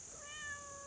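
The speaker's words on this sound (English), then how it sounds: "Cats." A cat gives a single short meow, close and fairly faint, against a quiet outdoor background with a steady high hiss.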